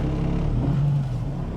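A totaled Ford Mustang's engine runs steadily on its first test drive after repair, a close, continuous low hum and whir without distinct revs, with no voices over it.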